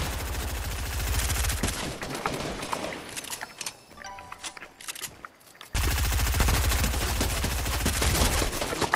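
Rapid automatic gunfire in Fortnite bursts loudly at the start, drops to a quieter stretch of scattered shots and clatter, then resumes as a dense, close volley.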